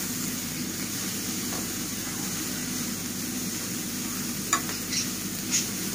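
Sliced onions with a pinch of salt are stirred in a pan over a soft, steady sizzle, with a few light utensil clinks near the end.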